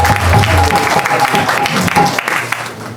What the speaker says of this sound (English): So give yourselves a big round of applause also.